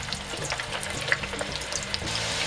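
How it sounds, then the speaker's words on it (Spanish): Potatoes deep-frying in oil at 175 degrees, a continuous bubbling sizzle with faint crackles, steady and close, no voices. "Así que vamos a freír la primera tanda."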